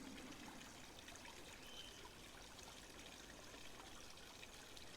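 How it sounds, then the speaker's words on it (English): A small river or fountain flows steadily in an outdoor setting, a soft, continuous trickling wash of water that stays at an even low level throughout, with no voices. "Hearing that little river in the background, or a fountain."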